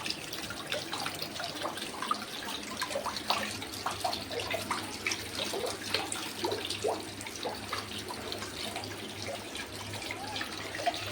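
Water is poured during Ganesh decoration, making a faint, continuous trickle with small splashes and drips throughout, with no talking.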